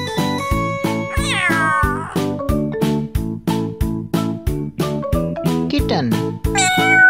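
A cat meows repeatedly, loud and close, with rising and falling cries over a steady rhythmic music backing in a preschool learning song.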